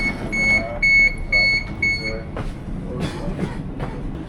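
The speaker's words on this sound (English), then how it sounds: "we're going to catch this train here and we're going to catch it up to Newcastle Interchange" A 10-car Sydney intercity train bound for Newcastle Interchange, with steady high whining tones and squeal at first, then a low rolling rumble as it moves, while someone talks close by.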